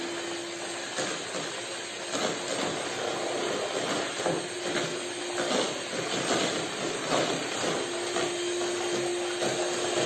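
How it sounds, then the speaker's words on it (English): Electric mixer beating cake batter with vanilla sugar in a home kitchen, a steady whirring hiss running continuously and fairly loud, with faint clatter of the beaters against the bowl and no talking. "mix everything together with electric mixer"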